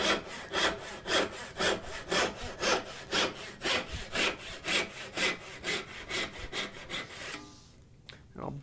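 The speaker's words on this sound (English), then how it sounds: "now you're ready to cut all the way straight down" A hand turning saw rips straight down through a piece of wood in steady, close back-and-forth strokes, each push and pull a distinct rasp, about sixteen in a row before the cutting stops and it goes quiet.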